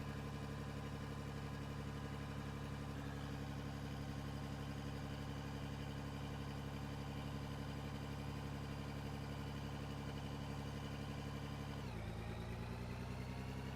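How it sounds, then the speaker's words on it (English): Simulated wheel loader engine in a construction and mining game, a steady droning hum held throttled up, then a sudden shift in pitch near the end, with no voices. "Engine sounds could use some work too."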